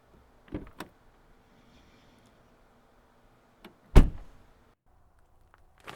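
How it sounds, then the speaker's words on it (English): A car door is handled in a quiet setting: a couple of short clicks early on, then one sharp loud thunk of the door shutting midway, followed by near silence. "You just hop in the car. The door's unlocked."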